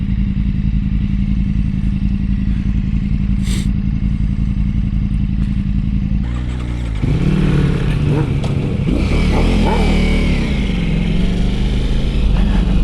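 A loud motorcycle engine idles steadily, then a rider on an unrestricted, BD Moto-tuned sportbike opens the throttle and the engine roars harder and rising as it accelerates past nearby, with no talking.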